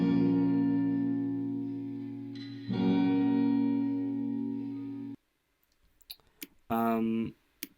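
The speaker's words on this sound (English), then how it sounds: "I recorded the Epiphone through like an electric guitar amp" An Epiphone guitar recorded through an electric guitar amp rings out in sustained, layered chords for about five seconds, then stops, followed by a few clicks and a short burst of brighter strummed tone.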